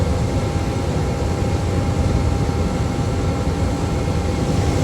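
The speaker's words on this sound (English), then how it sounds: "2 helicopters in convoy." A continuous loud rumbling drone of two helicopters flying overhead in convoy fills the whole stretch, steady and broad with no pauses.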